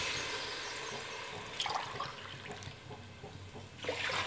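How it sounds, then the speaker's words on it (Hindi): Water poured into a pot of rice for a desi-style fish biryani, a steady splashing rush with a brief louder gush midway and another near the end, moderately close and without talk. "तो इसमें तीन ग्लास पानी ऐड करेंगे"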